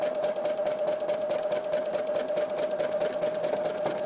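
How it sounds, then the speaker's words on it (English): A sewing machine runs steadily and close during free-motion quilting of flower petals, giving a continuous fast mechanical whir with a rapid stitching pulse and no pauses. "So I'm sewing my last petal here"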